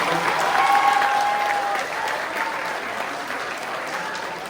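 An audience at a zonal talent competition and poster reveal event claps together, a broad, fairly close burst of applause that swells early and then settles into a steadier, slightly softer patter.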